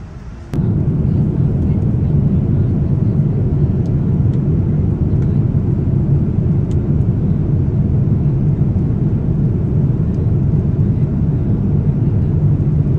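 Steady, loud airplane cabin roar throughout a flight to Australia, a dense low-frequency drone that fills the whole stretch after a brief quieter opening, with no talk over it.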